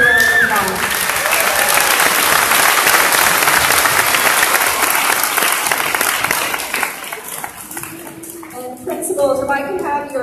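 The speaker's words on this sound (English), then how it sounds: "give them a big round of applause" Clapping erupts at a school district board meeting for student presenters from two schools, loud and dense at first, then thinning out as voices and talk take over toward the end.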